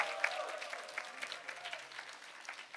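A church congregation gives a brief, fairly faint round of applause, steady clapping across nearly three seconds with a voice faintly present.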